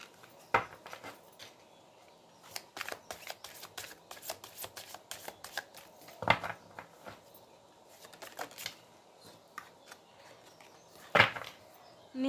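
Tarot cards shuffled and flipped by hand, a soft run of close papery riffles and flicks with a few sharper snaps, no talking.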